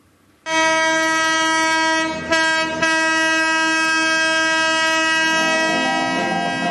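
Darjeeling Himalayan Railway toy train on the jungle safari run between Siliguri Junction and Gayabari near Kurseong sounds a loud, sustained horn that starts abruptly and holds for several seconds, dipping briefly midway.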